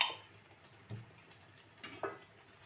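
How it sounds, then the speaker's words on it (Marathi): Masala frying in oil in a pan for a Surmai fish curry, a faint low sizzle with a few soft scrapes of stirring, close and quiet. "हा मसाला आपण त्याला तेल सुटेस तोपर्यंत परतून घ्यायचा"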